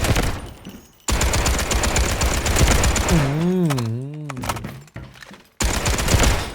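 Rapid bursts of VSS rifle fire in the video game Delta Force, loud and continuous with a brief pause, a warbling electronic tone in the middle, and someone talking over the shots.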